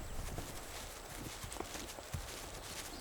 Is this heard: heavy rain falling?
no